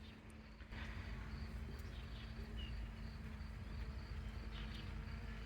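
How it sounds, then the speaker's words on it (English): A faint, continuous buzz of bees droning steadily outdoors with no other prominent sounds. "Look at all these bees."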